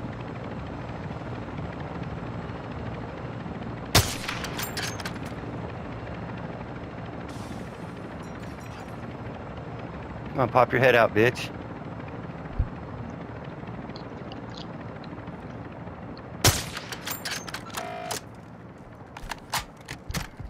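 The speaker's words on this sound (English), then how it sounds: "Oh, is a chopper coming in?" A helicopter comes in during a Call of Duty: Modern Warfare II DMZ match, its rotor thrum loud and continuous, with sharp gunfire bursts and someone talking over it.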